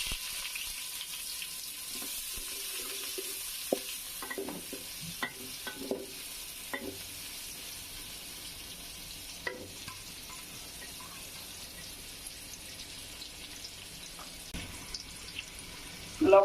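Onions fry in hot oil with dried red chilies and bay leaf for Bengali bhuna khichuri, making a soft, faint sizzle with a burst of stirring clicks and scrapes early on, then quieter frying.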